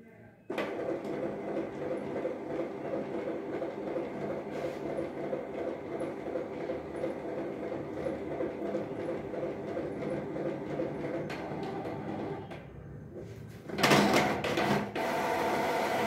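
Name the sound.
Canon G2010 printer printing out a page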